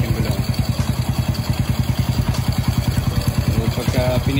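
A Honda Wave 100 motorcycle fitted with a clutch conversion kit runs in gear with a rapid, even, thumping engine pulse, close and steady, with a brief clatter near the end.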